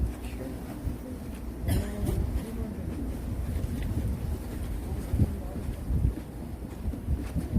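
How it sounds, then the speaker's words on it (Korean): Wind blows outdoors in a steady, low rumbling roar that buffets the microphone for the whole stretch, with faint muffled voices now and then. "바람 부네, 바람 불어"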